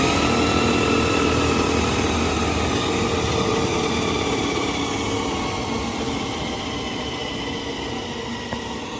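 The electric motor of a Harley-Davidson motorcycle build spins with a steady, close, high-pitched whine and hum that fades slightly toward the end, with no voices.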